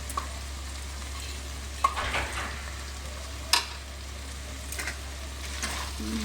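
Banana flower curry with ghee and garam masala being stirred in a pan, with a low, steady frying hiss and occasional scrapes and clinks of the spoon, no talking.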